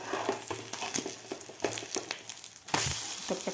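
An egg roll frying in a pan, a soft sizzle with small scraping taps, then a louder thud as it is turned over partway through, followed by continued frying hiss.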